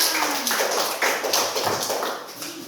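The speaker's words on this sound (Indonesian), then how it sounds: "Ya benar, tepuk tangan." Schoolchildren in a primary classroom clap their hands in a quick, steady rhythm, with a run of bright, even claps and a faint voice in the background.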